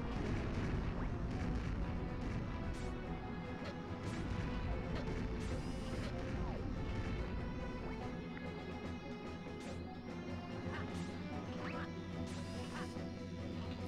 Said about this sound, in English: Trying not to get hit by cannons.